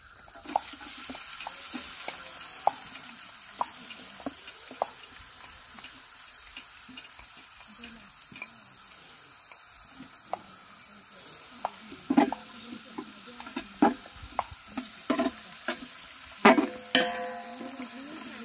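Chopped onion sizzles in hot oil with bay leaf and cumin, a soft, steady frying hiss broken by scattered spoon taps and scrapes that grow busier toward the end.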